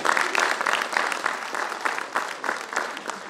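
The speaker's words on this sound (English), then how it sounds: "You should have a round of applause for yourself first." Graduates at a convocation ceremony applaud steadily, a dense crowd of hand claps filling the space at moderate loudness with no voices over it.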